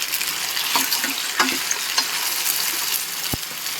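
Tomatoes cook in a hot tempering of oil and asafoetida for sambar, giving a steady, close crackling sizzle broken by a few scraping stirs of a spoon.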